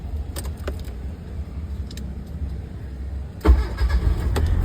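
A car engine cranks and catches near the end, preceded by a low idle-like rumble and faint jingling of keys; the engine noise is loud and close, with no talk.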